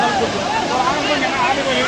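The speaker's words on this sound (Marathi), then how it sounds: "धबधबा अतिशय सुंदर वाटलेला आहे" Dharkund falls, a waterfall, pours with a steady, dense roar that stays close and loud, continuous for the whole stretch with no breaks.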